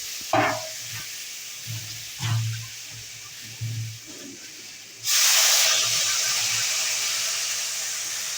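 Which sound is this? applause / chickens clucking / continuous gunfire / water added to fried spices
water added to fried spices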